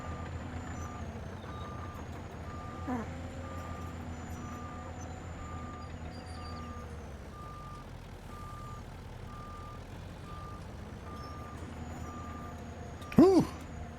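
A truck pulling a heavily loaded trailer reverses on an old farm, its backup alarm beeping steadily at a regular rhythm over a low engine rumble, with a louder brief burst near the end.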